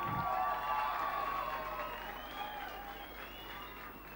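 Sustained applause from a school audience at a 1990 Icelandic upper-secondary singing contest, honouring a contestant from Fjölbrautaskóli Suðurnesja. Dense, steady clapping fills the hall, loud at first and easing slightly, with a few scattered cheers and no talk.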